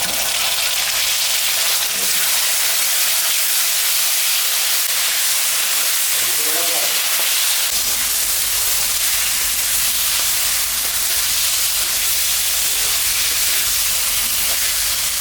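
Paste of ginger, cumin, dried chili and garlic frying in a pan for a pangas fish curry, giving a steady broadband sizzle and hiss throughout, loud and close, with a deeper roar joining partway through.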